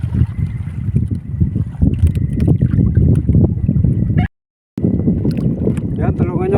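A small boat at sea, with someone paddling while out fishing. Gusty wind roars against the microphone, water sloshes below, and voices talk over it. The sound drops out briefly partway through.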